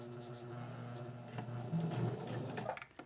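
A home sewing machine runs a short burst of stitching on fabric with elastic under the presser foot, a quiet steady hum that rises briefly before it stops, with no talking.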